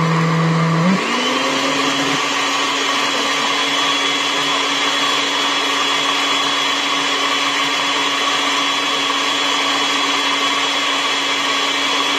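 A blender whirs steadily as mayonnaise is mixed, starting low and stepping up in speed in the first couple of seconds, then holding a loud, constant motor drone throughout.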